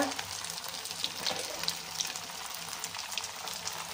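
Sabudana vada deep-frying in hot oil gives off a steady, soft crackling sizzle with scattered small pops, heard up close with no one talking.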